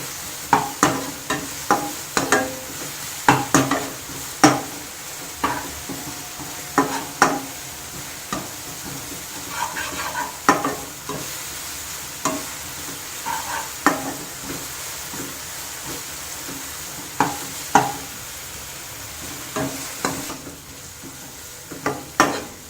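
Onions frying in a pan for dhaba-style paneer masala are stirred repeatedly. A low, steady sizzle sits under frequent sharp spatula scrapes and taps that come in an uneven rhythm throughout.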